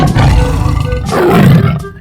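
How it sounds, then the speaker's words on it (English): A tiger roars in a 3D animal video game: a loud, close, rumbling roar that swells twice and fills the whole moment, with no talk over it. "Tiger."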